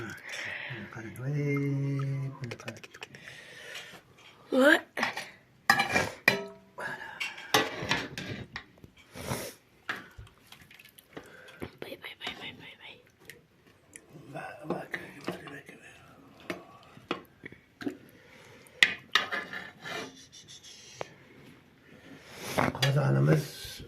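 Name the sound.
large cooking pot and lid being handled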